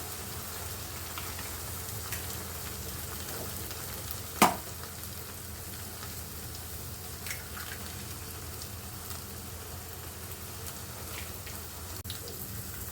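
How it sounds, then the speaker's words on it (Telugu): Beaten egg poured into a hot pan fries with a steady, even sizzle, broken once by a sharp clink of a utensil, and nobody talks. "ఇప్పుడు గుడ్డు చెదగొట్టేసి వేసేస్తున్నాను"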